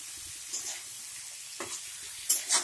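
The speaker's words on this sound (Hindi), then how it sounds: "फिर इसको प्याज को धीमी आंच में पकाना है, अच्छी तरह से इसको पकाना है गाइस।" Onions with salt cooking over a low flame, a soft steady sizzle with a few faint stirring scrapes near the end.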